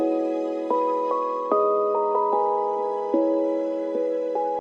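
Soft bell-like keys layered with sustained high strings in a lo-fi beat, steady chord changes ringing out at an even level with no voices, cutting off abruptly at the end.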